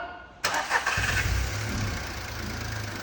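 A Volkswagen Polo with an engine misfire, improper fuel flow and a fuel pump fault cranks and fires abruptly nearby, then settles into a low, slightly uneven idle rumble.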